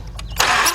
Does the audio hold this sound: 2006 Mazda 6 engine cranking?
yes